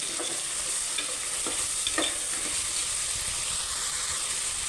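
Tomatoes frying in oil for a simple two-vegetable pulao give a steady close sizzle and hiss, broken by several sharp spoon scrapes and clinks as the pan is stirred, with no speech.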